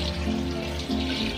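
Water pours steadily into a pot of biryani being prepared with yogurt, chilli powder and kasuri methi, a continuous close splashing stream with a faint tonal ring, with no talk over it.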